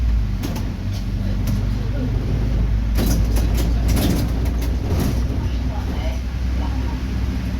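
An Iveco bus on the Lianes 9 line rumbles steadily from inside the cabin, with a low engine drone, rattles and clunks over the road, and faint background voices.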